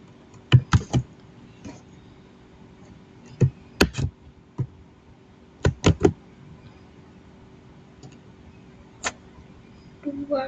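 Sparse keystrokes on a computer keyboard: short, sharp clicks in small clusters, a few quick double taps separated by pauses, recorded close in an otherwise quiet room.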